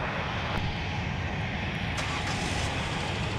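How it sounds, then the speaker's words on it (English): An American Airlines jet arriving from Dallas Fort Worth at Minneapolis–Saint Paul airport roars steadily in the distance, a continuous broad engine rush with traffic noise, no talking. "we're going to catch American Airlines 2122 coming in from Dallas,"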